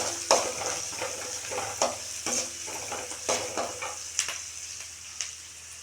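Onions frying in oil in a pan, a steady close sizzle punctuated by regular scraping strokes of a spatula stirring them, roughly one stir per second with no voices.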